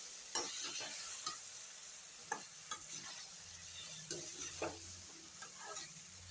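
Chili powder is stirred into a brinjal curry with taro roots in a pan over high heat, a soft, continuous sizzle broken by repeated scraping strokes of a spoon, fairly quiet and with no voices.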